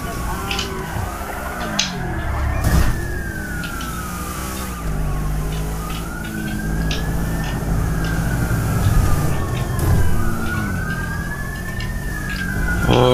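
Police car sirens wail in rising and falling sweeps, loud and close, over traffic and engine noise on a motorway in GTA V.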